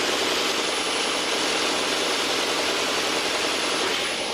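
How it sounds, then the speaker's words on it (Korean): A Hyundai Grandeur hybrid sedan engine, running in sport mode, hums continuously at close range, smooth and even with no speech, a low mechanical drone filling the whole stretch. "바로 엔진 소리 한번 들려드릴게요."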